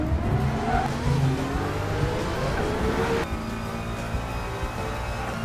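A GT3 race car in a racing video game launches off the line, its engine revving loud and close with a rising whine, then shifting abruptly as it pulls away.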